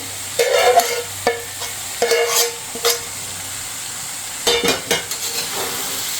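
Sliced onion and okra are added to hot oil and tossed in a pan, heard as bursts of sizzling frying and spatula scraping against metal in several short clusters with quiet gaps, no talking.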